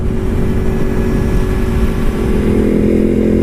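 Motorcycle engines rumbling loud and close in a steady, unbroken roar with a low heavy drone throughout, as bikes ride past.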